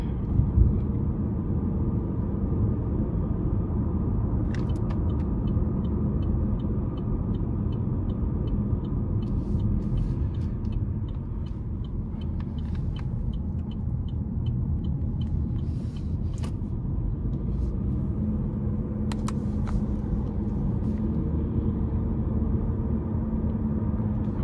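Steady low engine and road rumble from a 2023 Chevy Malibu LT with a 1.5-liter turbo four-cylinder while driving, a continuous even drone with faint ticks and clicks, no talking.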